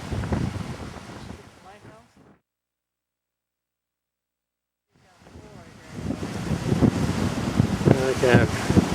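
Strong wind buffets the microphone on the Irish coast near a lighthouse, a loud broadband roar that drops out to silence midway and then returns harder, with a voice talking over the first part.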